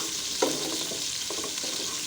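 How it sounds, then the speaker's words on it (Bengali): A quiet, steady sizzle of onions frying in a pan, with a brief stir or scrape near the start. "পেঁয়াজটা কিছুক্ষণ ভেজে নিব"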